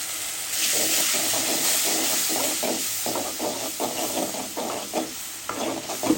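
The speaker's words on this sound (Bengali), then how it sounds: "মশলাটা একটু কষানো হয়ে গেছে।" Ground spices with a splash of water (coriander, cumin, turmeric and chilli) sauté in a pan for a Bengali prawn curry with bottle gourd and potato, a steady close hiss and sizzle broken by repeated scraping stirs.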